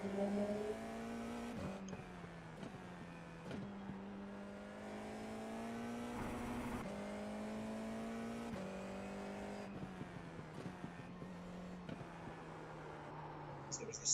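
In the racing game iRacing, an F4 race car engine on Okayama's short layout whines continuously, pitching up through repeated upshifts and dipping on lifts, moderately quiet and alone with no talk.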